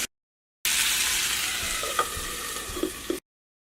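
Curry ingredients frying in hot oil give a continuous close sizzle that cuts in abruptly after a moment of silence and stops just as suddenly, with a few soft clicks of a utensil and no talk.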